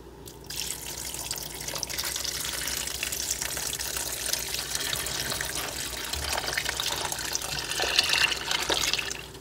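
Vegetable broth pours from a heavy container into a pot in a steady, gurgling stream, with light splashing and liquid sloshing close by.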